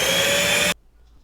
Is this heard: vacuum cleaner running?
yes